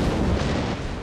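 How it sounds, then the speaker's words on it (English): Warship main battery guns firing in the naval combat game World of Warships, a loud, dense booming blast that fills the whole second with a sustained rumbling roar. "the big beefy bellows of the big guns"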